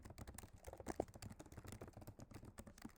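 Typing on a computer keyboard while filling in a web form, a quiet, steady patter of soft key clicks close by, with no talk.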